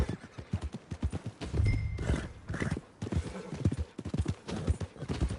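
Horse hooves clip-clop in a steady walking rhythm in the Red Dead Redemption 2 video game, with a brief whinny partway through and faint game dialogue underneath.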